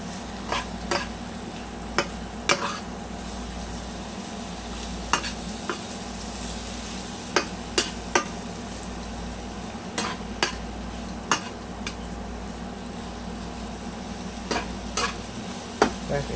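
A spoon stirs cabbage and eggs in a pan, giving a continuous soft sizzle broken by a dozen sharp metallic scrapes and taps against the pan at irregular intervals.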